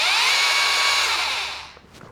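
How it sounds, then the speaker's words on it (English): A DeWalt 60 volt battery power head fitted with a Ryobi attachment whines at a high, steady pitch, loud and near, then winds down and fades as it coasts to a stop. "DeWalt, what is it, 60 volt power head. It works with all of my old Ryobi attachments."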